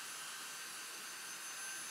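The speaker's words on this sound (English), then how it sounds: "If I'm running the vacuum," A Dyson V6 cordless vacuum cleaner fitted with a double-capacity battery runs steadily with a high, even whine and airy rush, alone without talk.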